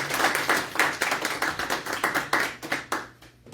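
Church congregation clapping together at a Christmas service, a dense run of rhythmic hand claps that fades out toward the end.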